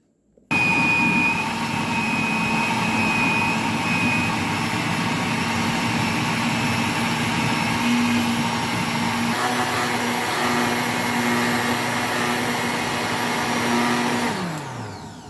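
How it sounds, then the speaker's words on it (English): A powerful kitchen blender purees tomatoes and pepper for paste, a loud steady whine running continuously for about fourteen seconds before winding down at the end, with no talking. "My blender is very, very powerful, so it has blend very smooth."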